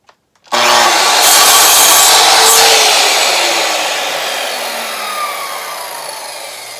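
A hand saw makes one long, rasping cut through junk parts for a homemade guitar, strong and close, fading gradually as the stroke finishes; no voices.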